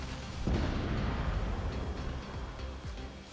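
A heavy robot weapon fires in the mobile combat game War Robots during a Titan free-for-all match. A deep, booming blast swells and rolls on as a long rumbling wash, loud and close, with no speech.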